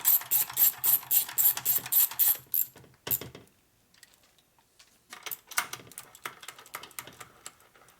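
Ratchet clicks as bolts are tightened on a 1961 Harley-Davidson Sportster XLCH transmission, rapid close clicking bursts for two seconds, then a pause and scattered sharper clicks and clanks.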